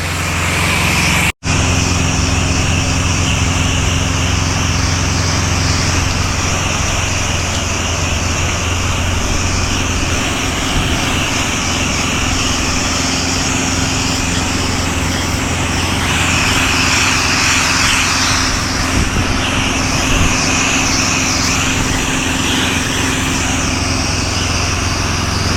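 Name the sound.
pressure washing rig engine pumping water through the line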